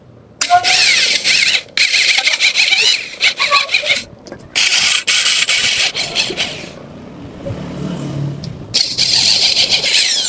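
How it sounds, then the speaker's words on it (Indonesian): An electric drill bores a hole into a broken Suzuki axle shaft to tap a bolt thread, giving loud, high whining bursts that start and stop several times, with quieter gaps of handling noise in between. "Kita pengeboran terlebih dahulu untuk membuatkan rat baut."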